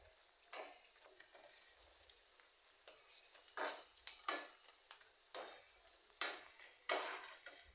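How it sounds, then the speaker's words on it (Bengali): Chips frying in hot oil in a home kitchen, with soft sizzling and intermittent scraping and stirring clinks from a utensil against the pan, quiet and close, no talk. "চিপসগুলো ভাজতে ভালোই লাগে, তেলের মধ্যে দিলে সুন্দর ফুলে ওঠে"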